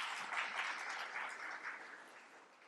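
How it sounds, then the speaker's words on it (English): A conference audience claps in a round of applause, a faint, distant wash of steady clapping that slowly fades out, with no voices over it. "I think you should give them a round of applause"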